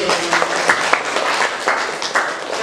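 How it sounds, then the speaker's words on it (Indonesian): A class of students in an Islamic religious education lesson applauds after a group presentation, a brief burst of dense, loud clapping from many hands close by. "Oke, tepuk tangan dulu"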